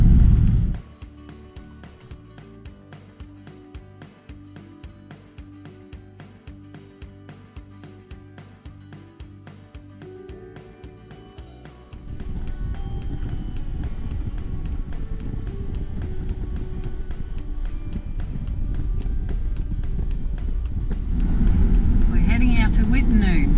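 A long multi-trailer road train rumbles past on the road toward Karijini in Western Australia, starting steady and low before a loud, broad roar swells and stays close, with wind buffeting and a voice talking over the first part.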